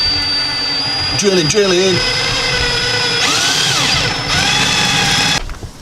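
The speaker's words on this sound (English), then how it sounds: "drilling things, drilling holes," A power drill whirs close by in several bursts, its whine rising and falling as it speeds up and slows down.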